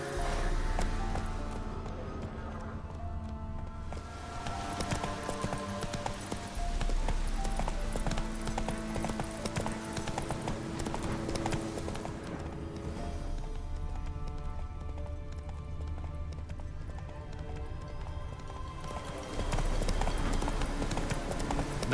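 A horse gallops in The Witcher 3: Wild Hunt, a rapid, steady clip-clop of hooves running on under a swelling game soundtrack.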